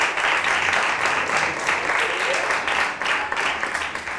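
Enthusiastic studio audience applause at a tribute taping, dense and steady clapping that swells and dips slightly, with murmured voices blended in.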